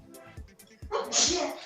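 A single loud sneeze bursts out after some quiet breathy sounds, close and sharp, trailing off into a hiss.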